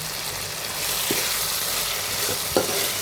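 Tomatoes fry for chicken biryani with a dense, continuous sizzle close at hand. Two or three soft stirring knocks sound briefly within it.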